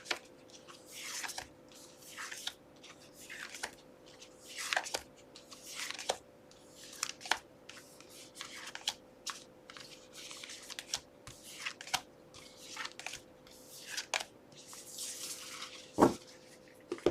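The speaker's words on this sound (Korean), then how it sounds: "어떨지 카드 뽑아보겠습니다." Tarot cards being drawn and spread, heard as soft, close rustles and small slides repeating steadily over a faint steady hum, with one sharper tap near the end.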